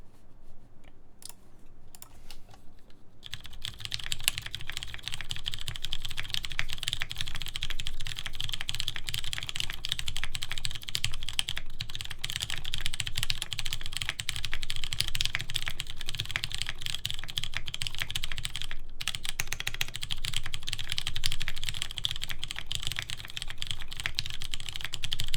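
Steady typing on a Syryan Monte Bianco computer keyboard, a continuous dense patter of close, crisp key clicks with no talking.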